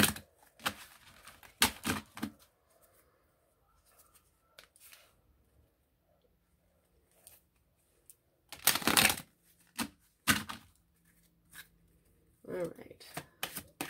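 Intermittent riffling and snapping of cards being shuffled, in a few short loud bursts separated by quiet gaps and occasional soft handling noises.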